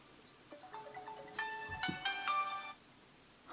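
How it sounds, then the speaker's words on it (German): A XINGHESF smartwatch rings with an incoming Bluetooth call, playing a quiet, bright electronic melody of rising and repeating tones for about two seconds before it stops. "Und dann rufen wir uns jetzt mal selber an."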